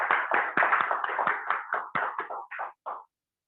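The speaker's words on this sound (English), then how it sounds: "let's give one more round of applause to our Toastmaster of the day." An audience at a Toastmasters meeting claps in a short, dense round of applause that thins into a few scattered claps and stops after about three seconds.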